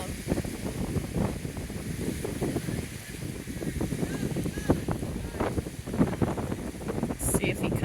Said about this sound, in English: It's a breezy day, but the sun's out.